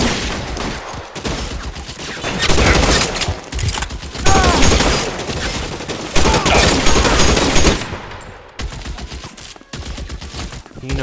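Repeated gunshots and bursts of fire from the crime video game L.A. Noire, loud and continuous across the scene with short gaps, mixed with game sound and occasional voices.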